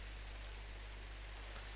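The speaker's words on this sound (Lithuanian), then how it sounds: "Nebijok čia to lietaus čia." Steady rain falling in the Minecraft video game, an even, soft hiss of drops with no other sounds and no talking.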